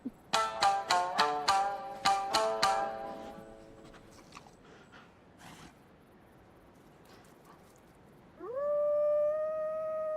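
A pack of wolves in the Ghost of Yotei video game, several rising howls overlapping close together at the start, then quiet creaks and scrapes before a single long howl rises and holds at the end.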